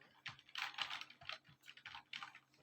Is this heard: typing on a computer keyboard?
yes